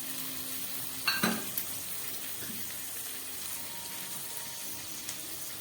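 Chicken coated in oil, turmeric and salt, with garam masala added, frying in a pan; a steady soft sizzle runs throughout, with a louder burst of crackling as the pieces go in early on, no one talking.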